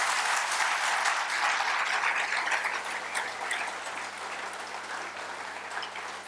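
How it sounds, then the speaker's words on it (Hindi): Audience applause at a yoga talk, a dense, continuous roar of many hands that fades slightly as it goes on, with a faint low hum underneath. "ताली तो बजा दी है"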